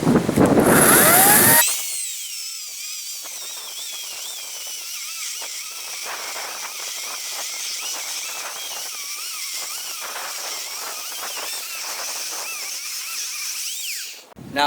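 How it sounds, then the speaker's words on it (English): A battery-powered chainsaw with a nearly fresh battery rips lengthwise down the middle of a log. A loud burst at the start gives way to a steady, high, buzzing whine that runs unbroken for over ten seconds before easing off at the end. "I'm going to try and cut down the middle of this to give me kind of a prelude to how planking with this chainsaw is going to work"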